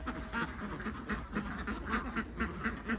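A flock of Khaki Campbell and Thai Ilianghe laying ducks in a farm pen quacks in quick, overlapping calls that repeat steadily throughout, fairly close and moderately loud, with no voices heard.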